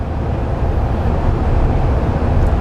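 A Nissan Titan truck with a Flowmaster muffler, its exhaust giving a loud, steady low rumble that holds evenly through the whole brief stretch without talk.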